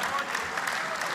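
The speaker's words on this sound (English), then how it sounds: "So I think you should clap since" Attendees at a company's annual general meeting clap in a brief burst of crowded applause, dense and even, with a voice faintly mixed in.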